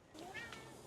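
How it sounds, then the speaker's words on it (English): A single cat meows clearly and close by, a short rising-falling call heard in a quiet garage during a service on a 1986 Toyota 4Runner. "Meow."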